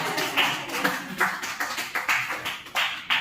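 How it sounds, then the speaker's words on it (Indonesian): A small group at a school gathering claps for a teacher, several uneven bursts of hand claps rising and falling, fairly quiet and a little distant. "Kasih tepuk tangan untuk beliau"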